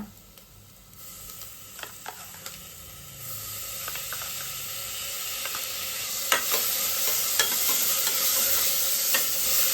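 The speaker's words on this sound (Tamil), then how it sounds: "வெங்காயம் வதங்கியாச்சுங்க இப்போ இஞ்சி பூண்டு பேஸ்ட் போடலாங்க" Ginger garlic paste fries with sautéed onions in a pan for soya biryani: a steady, close sizzle that grows louder, broken by scraping stirs.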